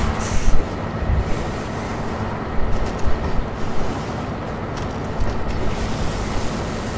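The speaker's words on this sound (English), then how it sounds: "And this is a slow train. Go faster, train." A slow train rolls along in the video game Far Cry 3, giving a loud, steady rumble of rail wheels and mechanical clatter with scattered knocks, and no voices are heard.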